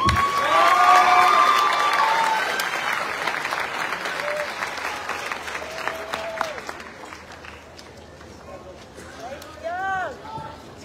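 A commencement crowd applauds and cheers the class of 2024, loud clapping with shouts and whistles that gradually thins out, then swells again as voices rise near the end.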